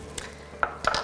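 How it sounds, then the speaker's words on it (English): Utensil clinking against the inner pot of an Instant Pot while ingredients are mixed, a few sharp metallic taps spaced unevenly, close and moderately loud. "Okay, mix that around."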